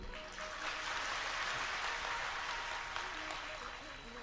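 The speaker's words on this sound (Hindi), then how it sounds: "तालियां धीमी क्यों बजी भाई?" Audience applause at a live Hindi-language talk or gathering, a steady, dense clapping that fills the hall for several seconds and tapers slightly at the end, with faint voices mixed in.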